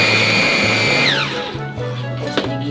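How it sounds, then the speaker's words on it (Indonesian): A kitchen blender whirs loudly and close while blending Carolina chili peppers, its motor pitch dropping partway through as the load changes, with no talking over it. "Oke, kita blender lagi."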